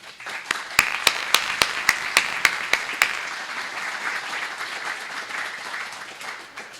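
Audience applause welcoming a speaker at a WWII lecture series, a few loud individual claps up front before the crowd's clapping swells into a steady, even wash that slowly fades.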